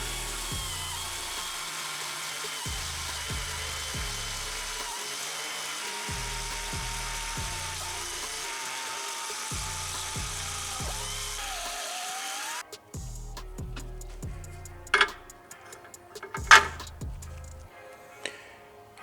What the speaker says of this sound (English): But I'll use this step bit and to drill that out and go from there.